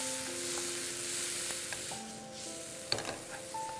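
Roughly chopped tomatoes sauté with golden-brown garlic in a pan, a steady gentle sizzle with a few light clinks of a spoon against the pan near the end.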